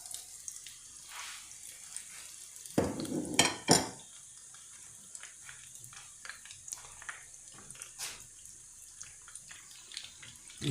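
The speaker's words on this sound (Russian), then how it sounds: "И теперь обжариваем с двух сторон." Cabbage rolls fry in oil in a pan, a constant thin hiss of sizzling fat broken by a short burst of clattering and splashing as they are turned, then settling back to quiet frying.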